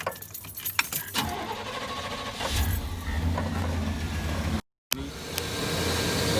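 A car engine cranks and settles into running after an oil change, preceded by jangling keys and clicks, then a steady close idle rumble with a brief dropout near the end.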